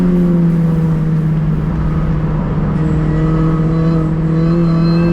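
An R53 Mini Cooper S lapping Oulton Park on a track day gives a loud, steady, close engine drone, holding a sustained whining note with slight rises as it pulls, with no talking.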